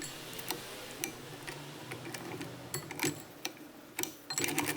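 A Weaver CUB sewing machine stitches through leather in a quiet, uneven series of ticking needle strikes, faint and close, with no voices.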